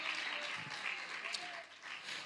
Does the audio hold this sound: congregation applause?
yes